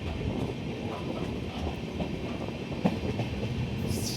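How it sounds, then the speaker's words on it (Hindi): The Amritsar–Bikaner Superfast Express 14720 rolls along the main line after a small curve, heard from on board as a steady rumble with rhythmic wheel clicks and a brief louder clank near the end. "छोटा सा कर्व लेकर मेन लाइन पे जाती हुई हमारी 14720"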